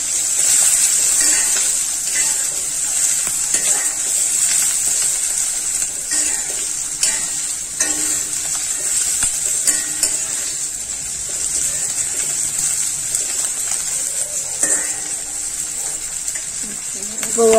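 Small onions and garlic fry in a pan with a steady, hissing sizzle that carries throughout, punctuated by occasional stirring scrapes and light knocks close by.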